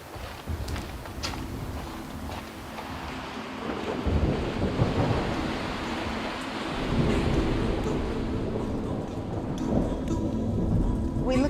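Thunderstorm over Monterey Bay with chain lightning, steady rain and rumbling thunder rolling continuously for the whole stretch, dense and fairly loud with no clear single crack.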